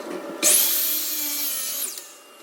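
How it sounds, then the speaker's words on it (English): A power saw cuts a 45-degree miter through a piece of wood: one loud, steady whining cut of about a second and a half that starts abruptly and then winds down, up close and without speech. "First thing to do is go cut a 45-degree miter on both of the pieces."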